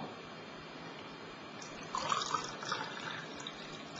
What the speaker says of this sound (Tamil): இப்ப இந்த கிளாஸ்ல நம்ம தண்ணியை ஊத்திக்கிறோம்